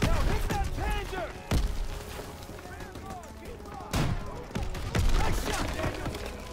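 A rocket launcher fires at a Panzer tank in Call of Duty WW2, with a few sharp heavy blasts over a busy battlefield of distant gunfire and whistling sounds, while voices talk.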